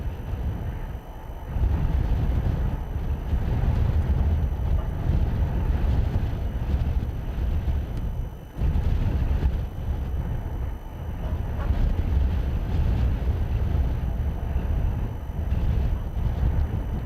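Strong wind at a SpaceX Falcon 9 launch site roars and buffets the microphone in a loud, continuous rumble, with two short dips in the gusting.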